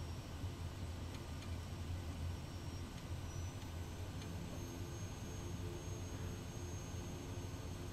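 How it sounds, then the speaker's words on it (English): A Quest Kodiak 100 single-engine turboprop taxis at Sandpoint in Microsoft Flight Simulator, its engine holding a steady, continuous drone with a faint whine and no pauses. "And now we can taxi on down to the end of the runway and do our before takeoff."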